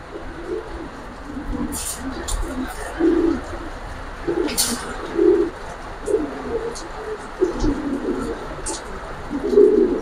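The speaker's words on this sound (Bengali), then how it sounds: "আর এগুলো সব মুরব্বী গো কবুতর, তো মানে কবুতরের প্যাটার্ন গুলো দেখেন" Pankhi and Silver pigeons in a loft give repeated low, soft coos in a steady rhythm, with a few brief sharper chirps above and a faint background hum.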